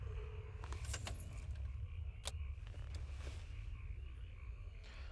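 Car keys jangle in The Walking Dead video game, a few bright metallic rattles over a steady low engine-like rumble.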